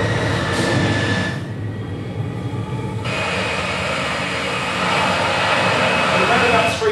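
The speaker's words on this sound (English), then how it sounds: "He's starting to use the Eurofighter engine, he's lifting his foot off, and he starts to accelerate." The Bloodhound land speed record car begins accelerating on its Eurofighter jet engine, heard from a distance as a steady broadband roar that swells toward the end, with a brief quieter stretch partway through.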